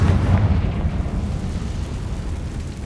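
Confringo fire spell detonating in Hogwarts Legacy, a single loud, rumbling blast that hits at once and decays over a few seconds into a fading roar.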